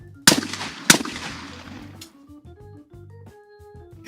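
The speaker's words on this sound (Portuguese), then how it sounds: "Essa é a característica do tiro do Rodrigo." Two loud, close shotgun blasts about half a second apart in a skeet shooting final, each with a ringing decay, followed by faint tonal sounds.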